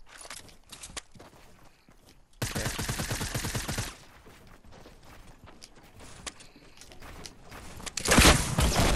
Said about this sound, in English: That's my rockets, by the way.